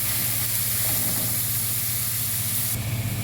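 Mutton pieces frying in a pan give a steady, loud hiss and sizzle that holds without a break and swells slightly near the end, with no one talking.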